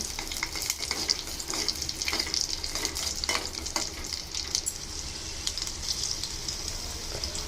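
Raisins and cashews frying in ghee for a carrot payasa, with a steady close sizzle and repeated scraping stir strokes throughout, no voices.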